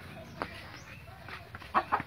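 A chicken clucks softly a few times, with a couple of sharper, louder clucks near the end, close by over a quiet background.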